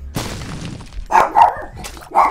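A dog barking in a video game: a short whimper, then three loud, sharp barks spaced irregularly, close and alone without speech.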